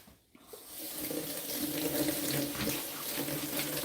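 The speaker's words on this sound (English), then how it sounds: "Now, I think we'll go with washing the melon." A melon being washed under a running kitchen tap, water streaming steadily and splashing against the fruit and sink after a brief quiet start, loud and close, no talking.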